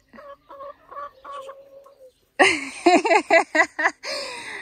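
Someone voices a string of short hoots, then a louder, rapid run of clucking, bird-like calls, a human imitation of a bird, close up.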